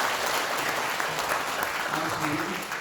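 Applause from a gathering at a New Year ceremony and Dharma service at Hwaeomsa Buddhist temple on Jirisan. Dense, continuous clapping fills about three seconds, with faint voices murmuring beneath it.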